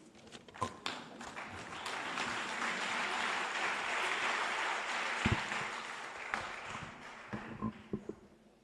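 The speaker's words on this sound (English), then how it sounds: "Can you stand and give him a round of applause," An audience at a bicycle distribution event attended by a Deputy Minister of Transport applauds in a sustained, moderately loud wash of clapping that swells and then thins to a few scattered claps and knocks.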